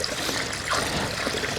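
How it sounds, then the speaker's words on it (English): Dirty aquarium water drains through a siphon hose pulled through sand, giving a steady close trickling, rushing flow that holds even throughout. "I can see some of the dirty water coming out."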